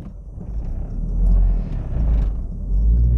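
A car pulls away uphill from a standstill with a tyre slipping, giving a heavy low engine rumble that rises and swells near the mic, with faint scraping and mechanical noise on top.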